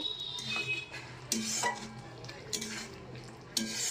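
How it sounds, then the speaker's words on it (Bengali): Paneer masala with ground spices is stirred in an oiled pan, soft utensil scrapes and taps against the metal recurring about once a second over a faint sizzle, close and quiet. "যতক্ষণ না তেলটা ভেসে আসে ঠিক ততক্ষণ পর্যন্ত একটু নেড়ে নিতে হবে"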